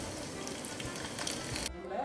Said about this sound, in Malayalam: छोटा प्याज काट के रखा है वो भी फ्राई करना है